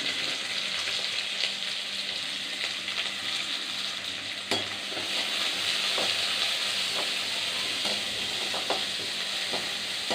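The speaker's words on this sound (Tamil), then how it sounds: "நல்லா வதக்கலாம்" Onions, green chili and fennel seeds sauté in hot oil with a steady, close sizzle and frying hiss, broken by a few sharp clicks of stirring throughout.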